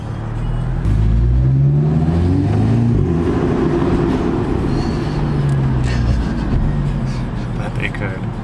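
An Audi S3 with a downpipe exhaust in sport mode revs in a parking lot, a loud sustained engine drone that rises and falls with throttle and echoes off surroundings, windows open.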